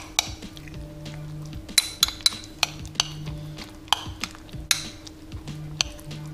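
Salmon being mixed into cream cheese and egg in a bowl, with a steady low scraping stir broken by sharp clinks and taps of the utensil against the bowl, close and alone.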